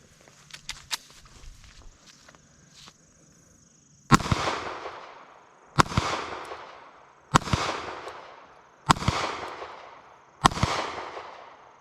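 Gunshots fired at a target during a trigger-control drill: a few faint clicks and handling noises, then five loud, sharp reports at roughly even intervals, each ringing out with a decaying tail, no talk.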